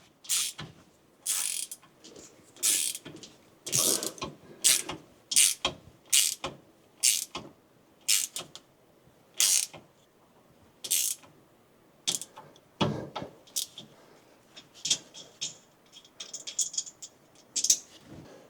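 A hand ratchet tightens a nut on a 1979–95 Toyota pickup rear disc brake conversion, making a long series of crisp, close clicking strokes in uneven rhythm, with no talk over them.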